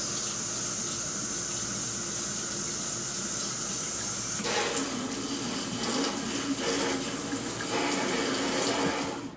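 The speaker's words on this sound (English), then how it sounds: "Now we're going to turn on the water, activate the diverter" Tap water flows steadily through a countertop pure-water filter diverter, a constant hiss that grows fuller and splashier partway through as the flow increases, with no talking.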